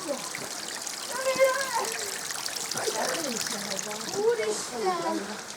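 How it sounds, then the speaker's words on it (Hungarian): Several streams join and flow together in the Rám gorge, a steady rushing trickle and splash heard under ongoing voices, including a child's. "Több patak folyik egybe."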